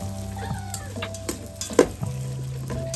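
Onion and garlic sizzling in a pan as they caramelize for an eggplant pasta, a steady close crackle with a low hum beneath and a few louder pops and clinks near the middle.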